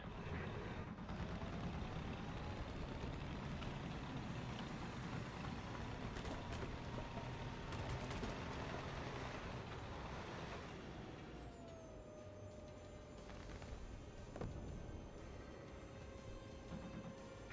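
Engine of an enemy vehicle in War Thunder, a steady mechanical drone with a pitch drop partway through, heard over continuous dense game noise with no talk.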